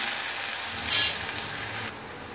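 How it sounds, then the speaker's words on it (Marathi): Chopped onion sizzles in hot oil with cumin seeds, a steady close crackle swelling briefly louder as it is stirred in the pan, then settling back to an even fry. "जिरं चांगलं फुटलं की त्यात कांदा घालायचा"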